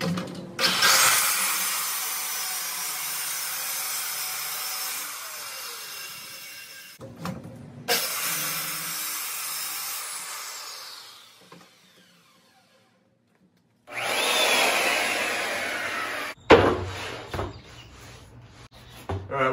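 Power saw ripping a sheet of plywood down the center for a cornhole board set, a loud sustained whine in two long passes separated by short pauses and silence, then a shorter cut with clunks of the wood.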